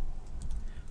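Typing on a computer keyboard, a brief burst of soft, rapid key clicks that plays quite close.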